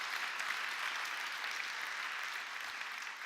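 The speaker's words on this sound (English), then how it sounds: "let's clap for that" A church congregation claps together in steady, dense applause that holds at an even level throughout, with no voices standing out.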